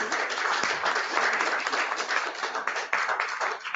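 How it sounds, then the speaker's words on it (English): An audience at a public meeting on the I-81 project in Syracuse gives a round of applause, a dense, steady wash of many hands clapping together. "let's give Aggie a round of applause."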